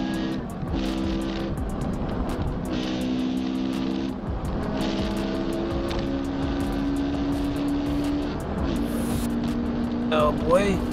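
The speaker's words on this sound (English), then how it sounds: "Bruh, hear that rev matching, boy." Street racing cars, including an Integra, rev and downshift with quick throttle blips as they run past, engine notes rising and falling over a loud roar while excited voices talk over it.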